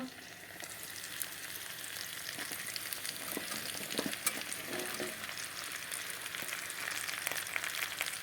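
Onions fry together with capsicum and potato in a pan, a fairly quiet, even hiss of sizzling oil with faint crackles and occasional light stirring throughout.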